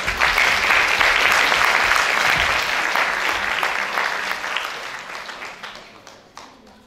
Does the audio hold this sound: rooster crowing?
no